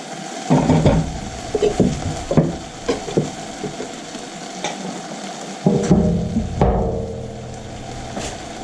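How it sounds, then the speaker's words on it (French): A spoon stirs a sweet, slightly tangy tomato chutney in a pan, giving irregular close scrapes and soft knocks with a gentle sizzle, and the stirring grows busier toward the end. "Là, vous mélangez bien"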